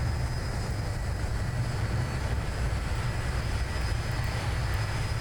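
A simulated airplane engine in the X-Plane 11 flight simulator gives a loud, steady, continuous drone with no pauses or talk.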